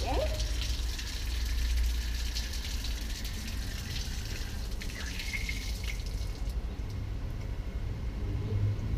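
A high-pressure nozzle at a hand car wash sprays water steadily against a car, a broad hissing wash held up by low rumble throughout, with people talking over it.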